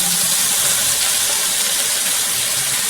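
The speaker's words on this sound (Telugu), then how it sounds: "అల్లం పేస్ట్ కూడా బాగా ఆగాలండి నూనెలో" Ginger paste frying in hot oil gives off a loud, continuous, bright hissing sizzle that holds steady throughout, close up, with no voices.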